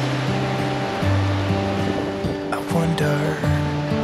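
Surf washes steadily onto a beach beside a wooden deck at Pontal Norte in Balneário Camboriú, a continuous roar mixed with wind buffeting the microphone and a few faint voices.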